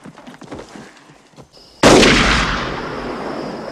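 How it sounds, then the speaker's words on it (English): A sudden loud gunshot blast erupts in a film scene and rolls into a long, fading echo like distant gunfire, after quieter background sounds with no talking. "Shooting way over yonder."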